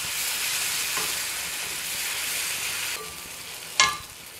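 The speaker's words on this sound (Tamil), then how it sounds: "அதில் அரைச்சி வச்ச விழுதை சேர்த்துருக்கேன் பாருங்கள். நல்லா சிம் பண்ணி வதக்கிடலாம்." Ground spice paste for South Indian seeraga kulambu sautéing in hot oil, a steady close crackling sizzle with stirring scrapes and one sharper burst of spattering near the end.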